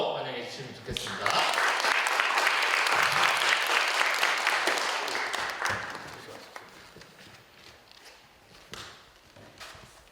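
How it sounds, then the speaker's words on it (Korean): Audience applause welcoming a speaker at a church worship service, swelling quickly into dense clapping, then fading out over several seconds into scattered taps and footsteps. "간사님 앞으로 모실 때 큰 박수로 환영해 주시면 좋겠습니다"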